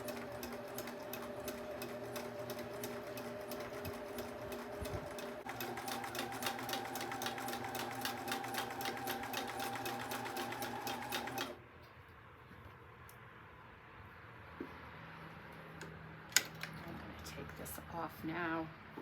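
A sewing machine runs a zigzag stitch through quilt batting, a loud fast steady whir and needle rattle that stops abruptly partway, followed by quieter handling sounds.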